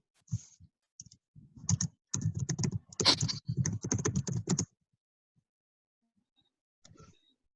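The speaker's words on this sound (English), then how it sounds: "I guess I'm typing in caps now" Rapid keyboard typing clatters in dense bursts for a few seconds, close by, then stops, leaving near silence and a last few keystrokes.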